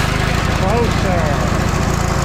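A 1998 Ranger bass boat outboard engine runs close and loud with a steady low, pulsing drone throughout, while voices talk over it.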